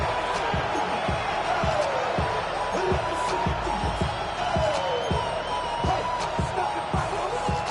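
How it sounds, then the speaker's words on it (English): A stadium crowd in a Madden football video game keeps up a steady, loud roar, with regular low thumps pulsing through the noise. "The crowd cranking it up another notch before third and long."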